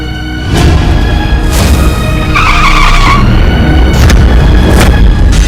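A car approaches and skids, a loud, dense roar of engine and tire noise that fills the whole stretch, with a screeching squeal in the middle and sharp bursts near the end.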